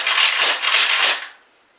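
Metallic clacks and sliding action of a Remington 870 pump shotgun being worked during a safety check, a quick close burst of racking noise that fades out within a second and a half.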